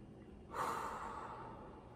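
One deep, slow calming breath drawn in and let out softly, a faint breathy rush that rises and then trails off, with no talking.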